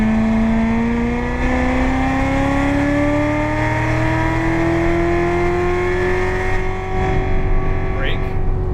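A Corvette Z06 engine pulls hard at full throttle around Las Vegas Motor Speedway, its loud rising whine climbing steadily through the gear, with a driving coach talking over it.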